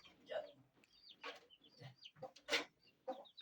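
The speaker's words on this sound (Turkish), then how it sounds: "horozları tavukları göstereyim" Roosters and hens cluck softly and intermittently in a series of short, scattered calls at low volume, with faint background noise between them.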